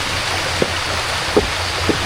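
Heavy rain falling on a lake while someone rows a small boat, a constant hiss of drops on the water with a few soft knocks of oars or the hull standing out.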